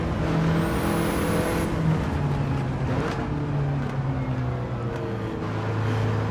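Race cars lapping at night around Mount Panorama, a steady engine drone with tonal whine and passing swells, continuous and fairly loud throughout.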